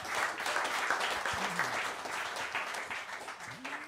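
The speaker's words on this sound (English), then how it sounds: "Round of applause for yourselves." An audience at a live jazz concert at Monks breaks into sustained applause, a dense wash of many hands clapping that fades slightly toward the end, with a brief voice surfacing underneath.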